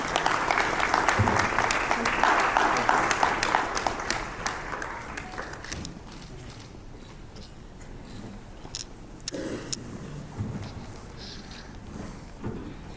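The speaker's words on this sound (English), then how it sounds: "welcome Dr. Chalaya, Joint Director, with a big round of applause, ladies and gentlemen." Audience applause at a summit's inaugural session welcoming a speaker, strong sustained clapping for about six seconds that then thins into scattered claps, shuffling and murmurs in a large hall.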